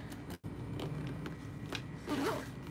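Zipper on a backpack's back pocket, a few quick scratchy zipping pulls spread over a couple of seconds, close and fairly quiet with faint handling noise.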